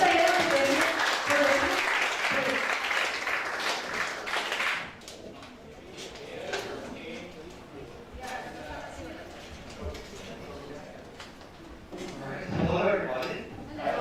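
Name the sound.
lecture audience applause for speaker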